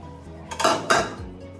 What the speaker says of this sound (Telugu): ఒక ప్రెషర్ కుక్కర్ అందులో మటన్ వేసుకొని